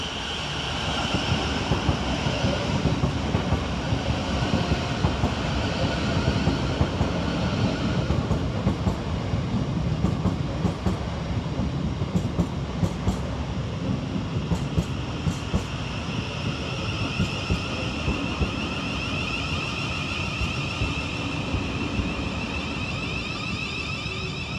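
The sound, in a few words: Thameslink class 700 train 700-112 arriving at station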